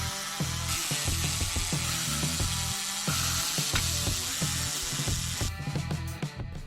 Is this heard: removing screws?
yes